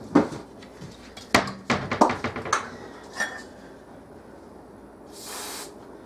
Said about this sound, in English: I spray my measuring cup a little bit